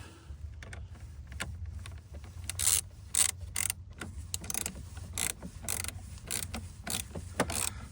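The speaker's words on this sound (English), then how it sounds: "we're going to tighten this bolt" Ratchet wrench tightening a 10mm battery terminal bolt on a 2019 Toyota RAV4, a quiet, close series of quick clicking pawl strokes in irregular bursts.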